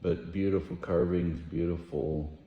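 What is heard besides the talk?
No everyday noise stands out behind the speech.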